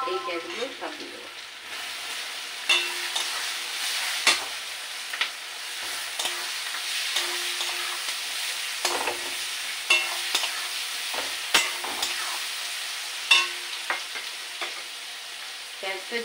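Chopped onions and garlic fry in a pan for a curry of prawns and Malabar spinach, a steady close sizzle broken by repeated scraping stirs and clinks of the spoon.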